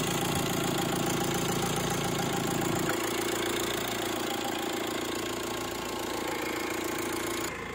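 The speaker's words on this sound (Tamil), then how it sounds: "வண்டி ஸ்டார்ட் பண்ணியாச்சு" Used car engine idling just after starting, a steady close, even mechanical rumble with a faint ticking texture that holds level throughout.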